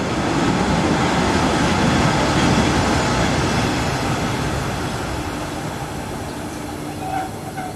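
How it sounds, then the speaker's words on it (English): An SBB Class 562 electric multiple unit on the Basel–Mulhouse local service runs loudly past at Saint-Louis station, a broad steady roar of motors and wheels that eases slightly as it moves on. "This is one of 6 SBB Class 562 electric units rebuilt to work local trains between"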